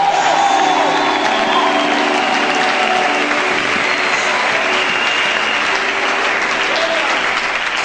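A church congregation at a prophetic gathering applauds and cheers to acclaim God: loud, sustained clapping from a large crowd with shouts and whoops mixed in, continuous throughout.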